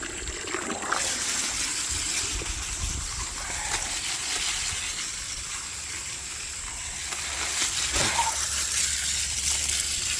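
Water is tipped out of a container while gravel is being cleaned, giving a running trickle and splash with a couple of sharper pours, heard close with no talking.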